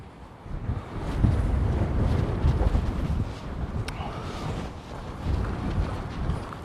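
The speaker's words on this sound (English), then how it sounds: "The wind is just blowing the gimbal round and round." Strong spring wind gusting across a seaside beach at Eastbourne, roaring low and steady as heavy buffeting on the microphone, with faint surf and water noise beneath.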